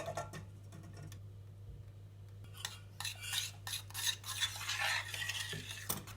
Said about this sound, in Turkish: Muhallebiyle karıştıracağım şu anda bir de